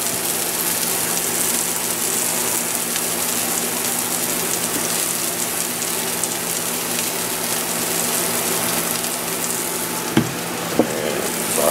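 A salmon patty seasoned with onion powder frying in a pan, giving a steady, loud, dense sizzle that holds evenly throughout with no talk, just a couple of faint clicks near the end.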